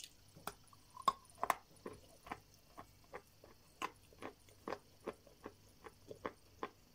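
Dull crunching while chewing edible clay streaked with yellow and orange veins, a close, quiet series of regular crisp bites roughly every half second in an ASMR eating session.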